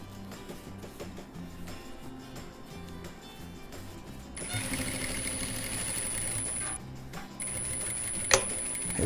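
Sewing machine stitching the border of a dish towel, a steady close mechanical whir with light ticking that picks up midway and runs alone, with no talking.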